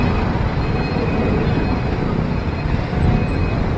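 Road traffic in Bohol gives off a continuous, dense roar of passing cars and buses, loud and close throughout with no clear breaks.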